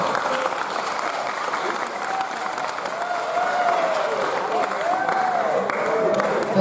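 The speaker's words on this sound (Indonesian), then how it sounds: "Kita beri tepuk tangan untuk narasumber kita, Ibu Umi." An audience at a school event at SMK Pleret claps steadily and fairly loudly for a speaker, sustained applause with some crowd voices mixed in throughout.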